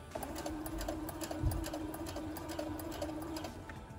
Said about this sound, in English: I lined up the inside of my presser foot with my first original seam